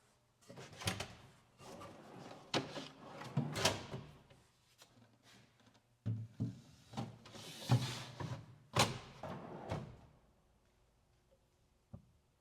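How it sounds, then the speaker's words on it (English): Dovetail drawer boxes slid into a bead inset vanity cabinet, a series of wooden sliding rumbles and soft knocks as each drawer runs in and seats, close and fairly quiet with pauses between. "I'm going to set these dovetail drawer boxes in."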